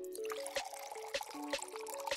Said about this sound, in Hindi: एक ढक्कन में पानी भरें